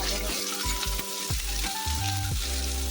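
Onion frying in hot oil in a home kitchen, a steady close sizzle with a few soft clatters and a brief low tonal hum running under it, no talking.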